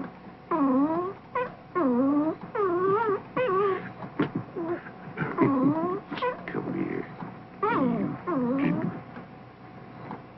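A newborn puppy only a few days old whimpers and yelps in repeated rising, wavering cries, close and fairly loud, with short pauses between bursts and no talk.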